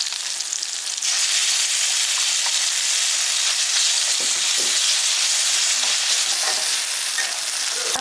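Chilli and garlic paste hits hot oil with fried taro stolons (kochur loti) in a Bengali kitchen, giving a loud, steady, hissing sizzle with a few faint stirring knocks underneath.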